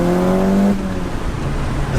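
A 2007 Audi S3 with a manual gearbox and Stage 2 tune pulls hard under acceleration. The engine note climbs loud and close, then drops as a gear change comes in, with road and exhaust roar carrying on afterward.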